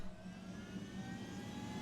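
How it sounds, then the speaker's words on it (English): A helicopter in the video game Ghost Recon Wildlands flies near La Paz, giving a continuous, fairly even engine and rotor drone with no speech. "seems my helicopter survived. I'll fly."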